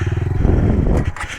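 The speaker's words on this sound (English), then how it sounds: "It stalled." A pit bike engine chugging in a pulsing idle that falters and dies out as it stalls, loud and close, followed by a clatter.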